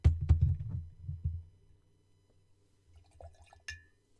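Water drips and splashes from a round Crayola paint brush, a quick cluster of wet patters at the start, then sparse small drips and a faint glassy clink.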